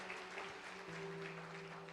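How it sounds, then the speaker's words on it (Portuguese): Steady applause from a large church congregation fills the space, a continuous wash of clapping with a faint sustained musical tone beneath it. "Se você entendeu, dá uma salva de palmas bem forte."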